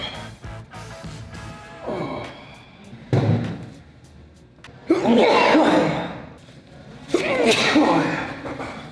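Three loud sneezes spaced a couple of seconds apart, each a sharp burst trailing off, with some movement noise before them.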